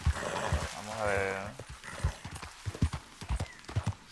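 Horse hooves clip-clop at a steady walking pace in Red Dead Redemption 2, with a whinny partway through and speech layered over the game sound.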